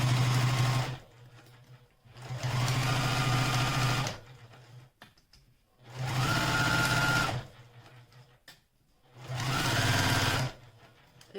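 A Juki TL18QVP high-performance sewing machine stitching in four separate bursts of fast, steady whirring, each lasting about two seconds with quiet pauses between, close and clear with no talk.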